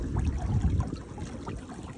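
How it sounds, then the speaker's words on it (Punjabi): Water from a solar-powered pump flowing steadily at a paddy field, a continuous close splashing trickle with no voices. "ਆਹ ਦੇਖੋ ਇਕੱਲਾ ਸੋਲਰ ਦਾ ਪਾਣੀ ਚੱਲੀ ਜਾਂਦਾ ਹੈ"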